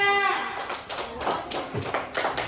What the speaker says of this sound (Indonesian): berikan tepuk tangan untuk kelompok 3